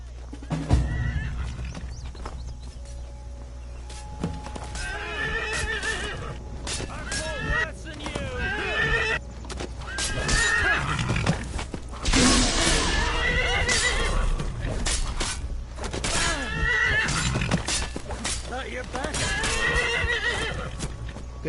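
Skyrim's horse Shadowmere whinnying and neighing repeatedly in the video game amid clip-clopping hooves and combat noise, with a player's voice talking over parts of it.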